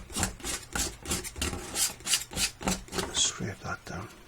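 A palette knife scrapes acrylic paint on a painting surface in repeated rhythmic strokes, about a dozen short rasping swipes in a steady back-and-forth pattern, close and clear.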